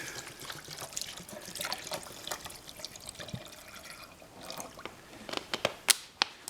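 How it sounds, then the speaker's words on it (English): Water is poured into a metal canteen cup while cooking spaghetti outdoors, a soft trickle and splash building to a few sharper drips and clinks at the end, close and fairly quiet. "Now we just put some water in here."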